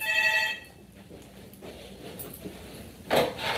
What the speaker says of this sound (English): I'm getting a phone call from the hotel.